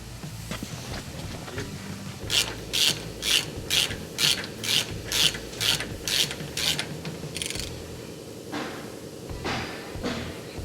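A ratchet wrench tightens nuts while a Super ATV Gen 2 portal gear lift is installed, making about ten crisp, evenly spaced clicking bursts up close, followed by quieter mechanical handling.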